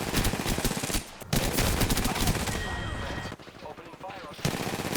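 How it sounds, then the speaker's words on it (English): Video game machine gun fire in rapid bursts, dense and continuous with short pauses between volleys, loud and close, mixed with other in-game sounds. "I'm getting shot at"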